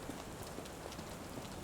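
Rain falls steadily in the video game Sherlock Holmes The Awakened, a soft, even hiss of drops pattering on surfaces at low volume with no voices.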